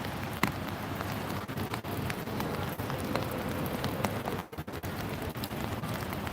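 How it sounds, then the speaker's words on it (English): Steady rain patters on an umbrella outdoors at a street protest in Portland, Oregon, a dense continuous hiss of drops with a few sharper taps, close and even throughout with no talk. "The sound of the rain's calming."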